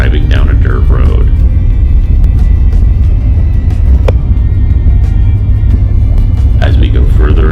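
A car drives down a dirt road with a loud, steady low engine rumble throughout. A voice talks over it at the start and end.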